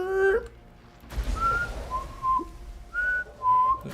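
A person whistles to imitate a repeating two-note game sound from Borderlands, a few short sustained tones rising and falling in a simple pattern, close and fairly clear with brief pauses between.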